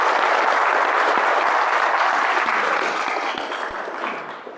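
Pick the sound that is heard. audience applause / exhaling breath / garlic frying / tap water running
audience applause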